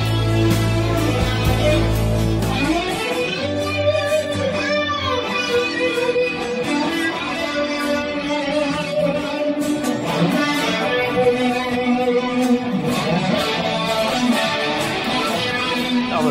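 Electric guitar run through a Big Muff fuzz, flanger and delay plays a loud, sustained, swirling solo line that fills the whole stretch without a break and with no voices.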